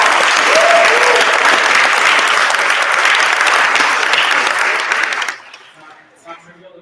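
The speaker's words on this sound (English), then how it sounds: "big round of applause for the patients." An audience at a hackathon's final presentations breaks into loud, steady applause for the patients, a dense sustained clapping for about five seconds that cuts off abruptly, followed by faint talk.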